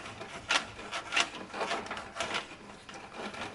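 A 3/8 inch drain auger cable turns and scrapes inside a kitchen sink drain, making repeated rasping, grinding scrapes in uneven bursts, close by and moderately loud.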